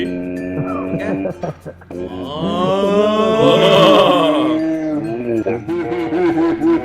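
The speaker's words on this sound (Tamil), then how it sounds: "என்னையா பசுமாடு ஐ லவ் யூ சொல்ற மாதிரி." A cow moos loudly in the R.E.P.O video game, a long drawn-out call with a rising and falling pitch, while voices chatter around it.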